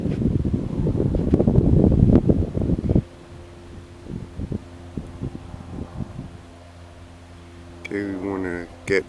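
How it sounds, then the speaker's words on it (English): Gusty wind buffets the microphone while a ZOHD Talon 250 drone flies outdoors, loud rushing noise for the first few seconds, then a quieter hum with scattered bumps and a brief burst near the end. "Ooh, the wind's really kicking it."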